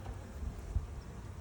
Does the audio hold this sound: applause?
no